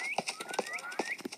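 Horse hooves in the Minecraft video game, a quick run of light clip-clop steps at an uneven rhythm, faint and close, with no talking.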